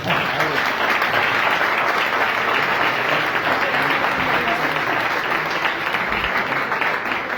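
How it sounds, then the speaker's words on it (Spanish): Audience applause at a 25th-anniversary company event for Maratania, dense steady clapping from a large crowd that holds at an even level throughout with no break. "Por favor, un fuerte aplauso para ella."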